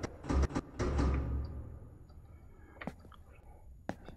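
A door opening in the horror video game Stairs, with a burst of creaking, scraping and thudding at the start, then a few isolated clicks and knocks over a quieter ambient bed.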